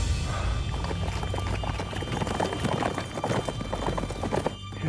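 A horse loping along an outdoor ridge, its hoofbeats a steady, fairly loud rhythmic clip-clop throughout, with no talk.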